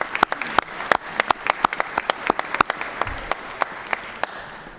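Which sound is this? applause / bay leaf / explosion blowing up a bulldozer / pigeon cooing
applause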